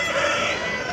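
A Bhimavaram rooster crows loudly and steadily at a busy hen market, one sustained, close call with no voices over it.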